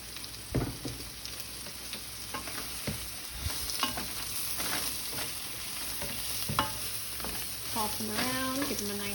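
Baby portabella mushrooms fry in oil in a pan with a continuous sizzle while a utensil stirs and scrapes them in irregular knocks, and a brief voice-like tone rises near the end.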